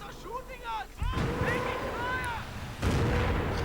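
In a World War II strategy video game, a naval rifle battery fires artillery: heavy booming blasts roll across the battlefield, with a big impact near one second and another near three, over rumbling background and a commentator's voice.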